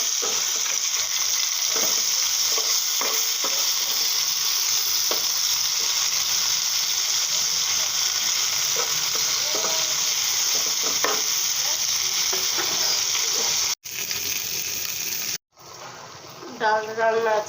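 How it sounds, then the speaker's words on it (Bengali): Rohu fish frying in a pan: a loud, continuous crackling sizzle with occasional scrapes of stirring. It cuts out abruptly twice near the end, where a brief voice is heard. "এখন মাছটি ভাজা কষিয়ে নেব।"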